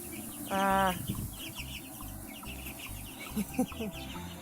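A bullied pet chicken named Charlie, kept in a decorated box, lets out a short clucking call close by. Softer rustling and faint chirps follow, with a low indoor hum underneath.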